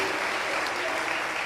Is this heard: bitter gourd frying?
no